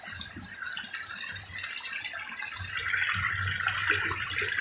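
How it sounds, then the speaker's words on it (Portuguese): Strong forest stream current rushing near a waterfall on a dense jungle trail, a steady broad wash of turbulent water, loud and close, with no voices. "Não parece, mas essa água é muito forte aqui, ó."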